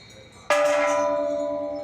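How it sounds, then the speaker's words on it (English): A single temple bell at Bangkok's Golden Mount is struck once, ringing out clearly and then slowly fading as its tone sustains. "Ring some bells."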